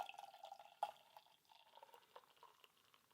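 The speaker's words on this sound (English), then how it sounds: "I'm going to pour into my Teku, because we can." Hazy orange New England IPA (Pressure Drop Welcome to the Internet) poured into a Teku glass, heard as a quiet, close trickle and splash with a brief louder gush near the start, no voices.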